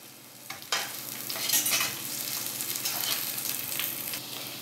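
Onion goes into a pan after garlic for chicken afritada and fries with a rising sizzle, with stirring scrapes over the steady crackle.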